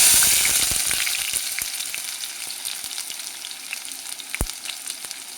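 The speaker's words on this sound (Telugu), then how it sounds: "ఇప్పుడు మనము స్టార్టింగ్ ఉల్లిపాయలు వేసుకుందామండి." Onions frying in a hot pan with spice already in, a steady bright sizzle and crackle that slowly eases, with occasional stirring clinks and one sharp tap near the end; no voices.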